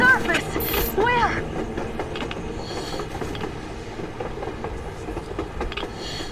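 Train passing on the surface in the video game Metro Exodus, a steady mechanical rumble and clatter that stays fairly loud throughout, with a brief squeal near the start and faint game sounds over it.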